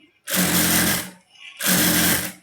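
A sewing machine stitching a straight seam on folded fabric, running in two loud, fast-rattling bursts separated by a short pause, close up.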